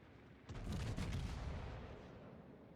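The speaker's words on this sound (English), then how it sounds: "So we fire one more volley of HE." A battleship in the World of Warships video game fires a volley of HE shells, a deep rumbling boom with a crackling onset that swells and then slowly fades, alone and fairly quiet.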